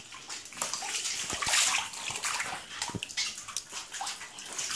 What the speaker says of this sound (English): all over the ceiling is dripping